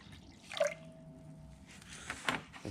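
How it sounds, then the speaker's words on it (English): Distilled water is added to a thickened gold-purifying solution, giving a couple of brief, soft liquid drips and splashes over an otherwise quiet background. "Add a bit of distilled water."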